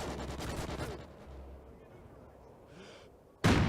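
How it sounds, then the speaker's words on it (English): A sniper rifle fires in Call of Duty: Ghosts during a 4v4 Search and Destroy match, giving one sharp, loud blast near the end after a quieter stretch. Rapid gunfire crackles briefly at the start. "gets met with a sniper rifle shot to the face"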